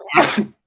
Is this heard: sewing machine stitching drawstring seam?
no